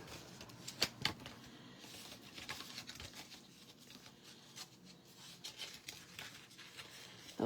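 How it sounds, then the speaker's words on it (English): A die cutting machine cuts a Halloween shape from paper, giving a rough run of crinkly, rustling passes with a couple of sharper clicks near the start, close and moderately loud with no talking. "I'm going to die cut this guy."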